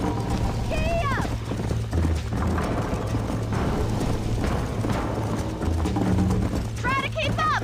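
A horse galloping in the video game Red Dead Redemption, steady rhythmic hoofbeats that run the whole way through, with a rider's voice calling over them and a whinny near the start and again near the end.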